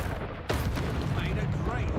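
Confringo, an explosive spell in Hogwarts Legacy, lands with a sudden heavy boom that rolls into a dense rumbling blast, with game voices and noise layered around it.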